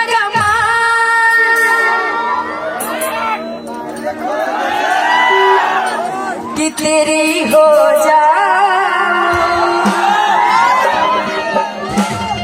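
Audience at a Bhojpuri stage show shouting, whooping and cheering in a dense, loud, continuous roar, with someone speaking over the crowd.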